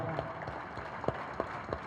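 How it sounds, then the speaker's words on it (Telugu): Audience applause at a meditation session, a steady wash of clapping with a few sharper individual claps standing out near the end. "Big clap."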